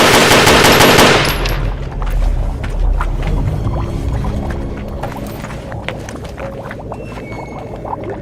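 Gunfire erupts in a film scene: a loud, dense burst of rapid shots in the opening second, followed by scattered clattering impacts, splashes and rumbling effects that fade into a tense background.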